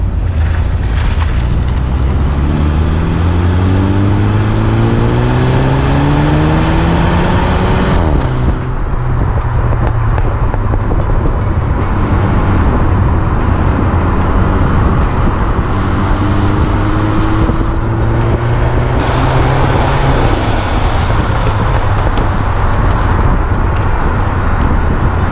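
MINI Clubman ALL4 driving briskly along rural back roads, engine note rising and falling through gear changes beneath heavy, constant wind and road roar, loud and close throughout with no voices.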